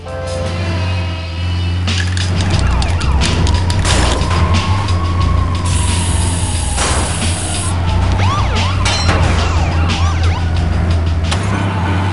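A wailing police siren sweeps up and down over a steady engine drone and crashes, loud and continuous, from the game Grand Theft Auto: Chinatown Wars.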